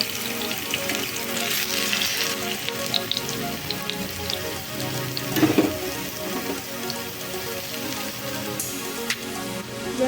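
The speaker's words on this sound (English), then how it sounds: "Fry the potatoes and bananas" Potatoes and bananas fry in cooking oil for pochero, producing a steady, dense sizzle with faint pops and a brief stir-like rustle midway, close by and with no talking.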